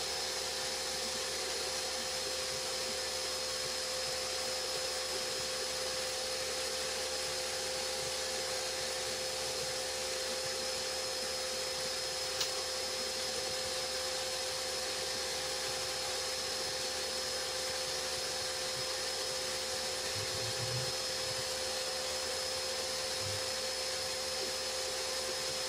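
A spray gun steadily hisses as it applies finish to a Japanese shoji screen outdoors in a light breeze, a continuous broadband spray with no pauses across the whole stretch.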